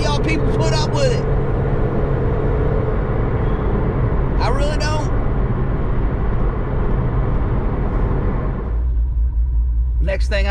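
Loud, deep exhaust rumble from a cammed 5.7 Dodge Challenger RT idling close by with a lumpy, throbbing note that drops lower near the end, while someone speaks briefly over it.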